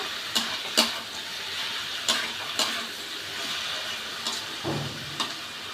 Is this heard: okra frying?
yes